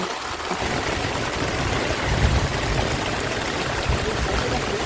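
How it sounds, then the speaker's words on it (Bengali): Steady rain falls on a fishing boat in the Sundarbans amid rough waves, a dense, even hiss of drops that stays loud and continuous throughout. "পুরো নির্ভেজাল বৃষ্টি"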